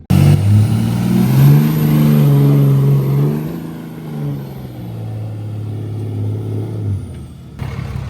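A loud Cummins diesel truck engine with a G56 six-speed revs up hard, holds a roaring pitch, then winds down, close by with no talking.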